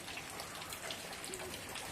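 Heavy rain pours steadily over a garden of plants, a soft continuous hiss of drops with no break across the short stretch, fairly faint and without voices.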